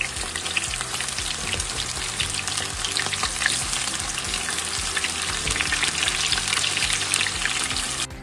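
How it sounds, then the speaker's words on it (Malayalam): Coated chicken pieces fry in hot oil in a pan in a Kerala kitchen, a loud, steady crackling sizzle with occasional stirring scrapes and no voices. "നമുക്ക് ഇതെല്ലാം ചിക്കൻ ഇട്ട് കൊടുത്ത് കഴിഞ്ഞിട്ട് തീ ഒന്ന് കുറച്ച് കൊടുക്കാം."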